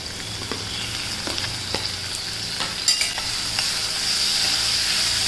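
Onion and tomato cook in a pan with a steady nearby sizzle, scattered stirring taps and a slight rise in intensity toward the end, no one speaking.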